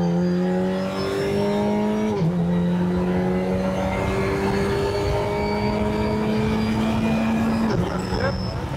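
Race car lapping a circuit with a loud, close engine holding steady revs and shifting gears around 2 and 8 seconds, while an instructor's voice coaches over it.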